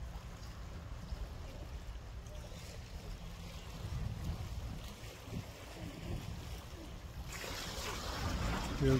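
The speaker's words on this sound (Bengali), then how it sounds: "কেউ কেউ স্পিড বোটেও এসছে।" A speed boat runs on open water at a scenic spot, its low engine drone mixed with waves and gusting wind noise, moderately loud and swelling toward the end.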